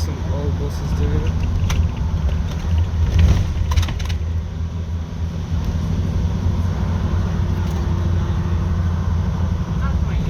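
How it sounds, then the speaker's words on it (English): An old Euro 2 Dennis Trident double-decker bus idles and runs with a steady low diesel rumble that stays loud and close throughout, with faint rattles and knocks from the vehicle. "That's what some of the noise, some old buses do."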